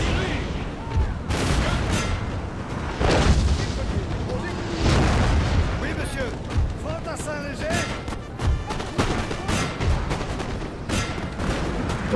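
Artillery booms and crackling musket volleys from a Napoleonic battle video game roll on continuously, with heavy blasts among dense rattling gunfire and a voice talking over the din.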